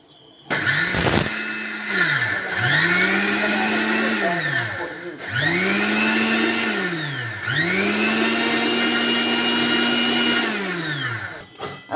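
A mixer grinder grinds rice in three bursts, each spinning up to a high steady whine and winding down, loud and close.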